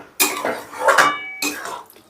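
Chicken bharta and fresh coriander are folded together gently in a pan, producing a few close, clattering spoon-on-pan scrapes and knocks separated by short pauses.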